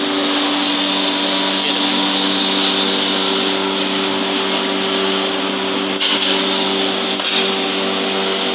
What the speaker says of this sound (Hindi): वो देखें पॉलिश हो रहा है, पॉलिश हो रहा है, ये पॉलिश हो रहा है